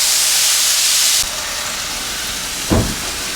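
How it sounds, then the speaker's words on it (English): Ground beef hamburger browns in a pan with a loud, steady hiss that drops abruptly to a quieter sizzle partway through, followed by a short thud from the pan, and no talking. "We're going to let that cook down"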